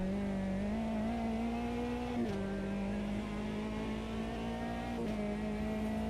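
Race car engine in the Automobilista 2 sim racing game holding a high, steady whine, dropping briefly twice at shifts before climbing back, loud and continuous with no one talking.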